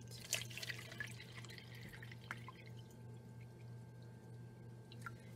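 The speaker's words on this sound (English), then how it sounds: "I'll measure it out." Distilled water poured from a bottle into a measuring cup, faint drips and a soft trickle over a low steady hum, with a few brighter splashes near the start.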